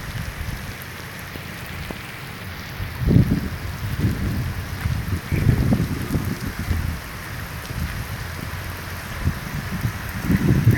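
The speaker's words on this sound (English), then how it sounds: "And the rain is pouring." Heavy rain from Hurricane Harvey pours down in Houston in a constant hiss, with occasional low rumbling surges rising and fading underneath.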